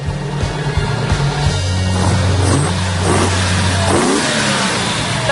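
A tuned Lamborghini Urraco engine revving hard, with sustained low roaring tones climbing and falling through several loud, close revs and no talking.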